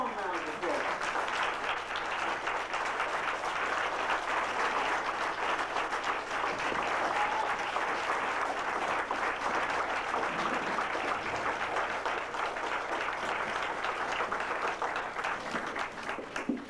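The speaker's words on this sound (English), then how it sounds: "Give him a warm round of applause." An audience applauds with sustained, dense clapping that continues steadily throughout, close and full, with a voice faintly present underneath.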